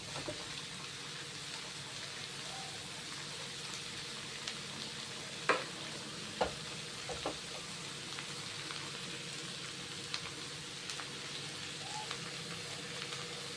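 Capsicum and mushroom pieces frying in a pan, a soft, even sizzle throughout with a few faint knocks and clicks of a spatula.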